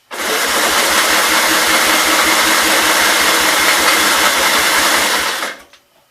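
A 1944 L engine is cranked by an electric start cart, giving a loud, steady, rhythmic churning drone that runs for about five seconds and then cuts off abruptly.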